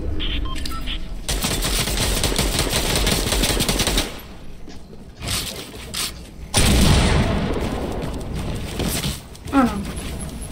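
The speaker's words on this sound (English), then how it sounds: "Fire all your shots." Rapid machine-gun fire and booming shots in Fortnite, loud sustained bursts broken by brief pauses, with a player talking over the shooting.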